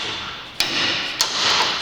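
A small 200-gram hammer strikes twice during a timing belt job on a Nissan Navara with the YD25 engine, two sharp, close metallic taps about half a second apart over a steady background hiss.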